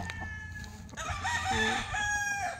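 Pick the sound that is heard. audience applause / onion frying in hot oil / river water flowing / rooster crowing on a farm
rooster crowing on a farm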